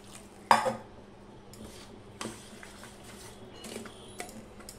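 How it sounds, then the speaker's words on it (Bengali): A spoon clinks against a bowl while roti batter of flour, salt and water is being mixed. There is one sharp knock, then scattered softer taps and scrapes over a faint steady hum, close and without speech. "এটা ভালো করে আমি মিশিয়ে নেব।"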